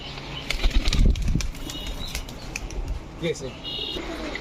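A pigeon's wings flap in a quick burst of beats near the start, then softer rustling and faint cooing and chirps follow while someone talks over the sounds.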